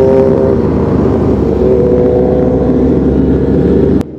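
Loud, continuous roar of many engines running together nearby, a thick rumbling drone that cuts off abruptly near the end.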